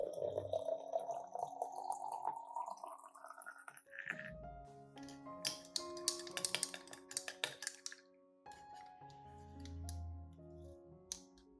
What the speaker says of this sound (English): Next, I add about 500 milliliters of hot water to the jar.